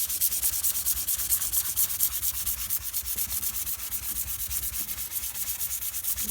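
Steady hand scrubbing of acid-stained stainless steel, a continuous rhythmic abrasive rubbing with quick back-and-forth strokes, close and loud throughout with no talk.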